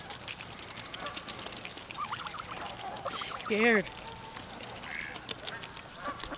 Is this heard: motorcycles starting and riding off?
no